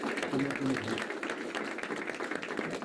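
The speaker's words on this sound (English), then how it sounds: "Please, one more time, give a big round of applause" An audience at a meeting in Atlanta applauds in a steady, dense wash of clapping, with a voice briefly audible over it near the start.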